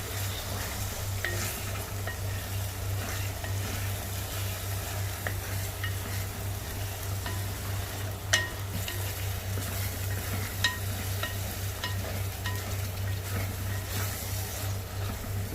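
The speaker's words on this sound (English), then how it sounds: "Gently stir the masala so that it doesn't get burnt from the bottom. Stir it properly and slowly." Crab masala made with onion paste and garam masala paste sizzles gently in a pan while being stirred slowly, a steady continuous fry with soft scrapes and occasional utensil clicks.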